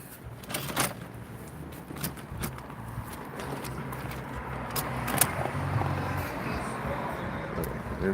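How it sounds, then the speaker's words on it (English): Cars drive past on a road near Kaneana cave, a continuous, moderately loud rush of traffic with a few sharper knocks, and faint voices in the background. "And there comes all the cars and stuff, right?"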